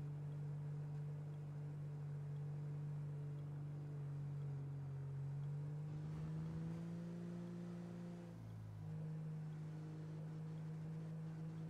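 A car in a GTA roleplay game driving slowly, a steady low engine hum with a slight shift in pitch partway through, continuous and moderately loud with no voice heard.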